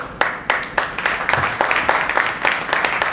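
An audience applauding with sharp, uneven claps that start sparse and quickly build into a dense, steady round of clapping nearby.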